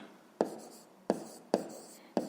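Hand writing in a notebook during a fifth-grade maths exercise, four short scratchy pen strokes at a steady pace, close and fairly quiet, with no talk.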